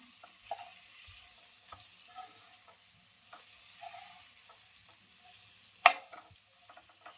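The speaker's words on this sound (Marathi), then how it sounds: "लाल तिखट आहे थोडंसं तेलात मग होऊ दे जरा." Red chili powder fries in a little oil for a spicy Maharashtrian brinjal dish, giving a faint, steady sizzle with a few soft stirring clicks and one sharper tap near the end.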